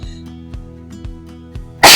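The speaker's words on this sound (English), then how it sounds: "I'm going to sneeze" A single sharp, loud sneeze bursts out at the very end after a quiet stretch of soft, regular tapping and faint background hum.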